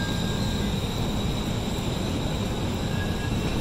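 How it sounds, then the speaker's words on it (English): A Chicago elevated train heading into Merchandise Mart rumbles past in a loud, continuous roar with faint high wheel squeal on the tracks, steady throughout and with no voices. "a train going over was announcing that it was coming into Merchandise Mart"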